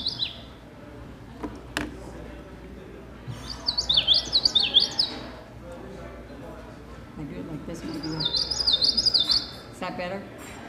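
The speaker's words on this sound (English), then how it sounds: "These are the little bandit warblers, the little common yellowthroats." A common yellowthroat warbler sings two bouts of a high, rhythmic, rolling phrase a few seconds apart, moderately loud against a quiet background with some speech.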